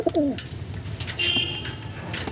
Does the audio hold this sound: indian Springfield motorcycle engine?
no